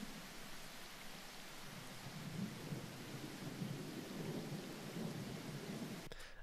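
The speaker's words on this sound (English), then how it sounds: "And then this is the storm aspect to it." Layered storm sound effect in a big-room techno track: steady rain on surfaces with low rolling thunder rumbles, fairly quiet and continuous, without any voices.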